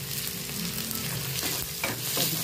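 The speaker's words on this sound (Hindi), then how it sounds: "फ्राई करने के लिए इसमें प्याज, लहसुन, अदरक, ये तीनों चीज़ें डाल दूँगी।" Continuous sizzling of onion, garlic and ginger frying in hot oil in a clay pot, with a few stirring scrapes, close and fairly loud.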